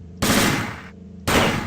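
Loud, close pistol gunfire from the video game System Shock 2, two sharp bursts of shots about a second apart with no talking.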